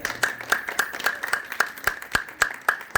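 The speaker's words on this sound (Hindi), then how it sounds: "एक बार दिल खोल के ताली बजाएं" A small audience claps in a loose, steady rhythm, about a dozen distinct sharp claps spaced evenly over a few seconds.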